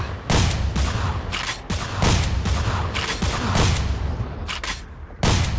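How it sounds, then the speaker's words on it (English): Loud, booming shotgun blasts from the video game Manhunt 2 come in a rapid series of repeated shots, each with a sharp onset and a ringing decay. "No one told you to go ahead and blast him with a shotgun"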